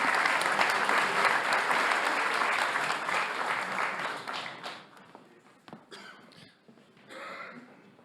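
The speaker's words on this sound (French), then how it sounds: "Et effectivement, on peut les applaudir." Conference attendees applaud after a round-table panel, sustained dense clapping that thins out and fades to a few scattered claps, coughs and rustles.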